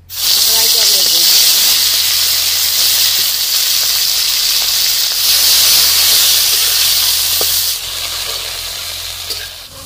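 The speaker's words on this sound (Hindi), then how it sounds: "बामी मछली फ्राई करने के लिए हम सरसों तेल डाल देते हैं।" Bami fish fries in hot mustard oil in a village kitchen, a loud steady sizzle and hiss running throughout, dipping slightly near the end.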